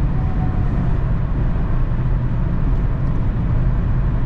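A 2023 Hyundai Tucson hybrid with 227 hp cruises on the autobahn, giving a steady, dense interior road and wind roar with low rumble throughout, loud and unbroken, no talking.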